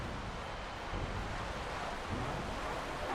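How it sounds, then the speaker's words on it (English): Ocean waves surging in a video game, a broad, steady roaring wash with gentle swells of louder surf, continuous and fairly close with no speech. "Why is the water so loud?"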